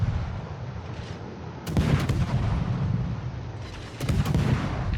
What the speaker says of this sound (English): So I'm going to get the guns working right away.